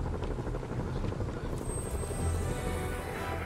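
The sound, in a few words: helicopter in the video game Marvel's Spider-Man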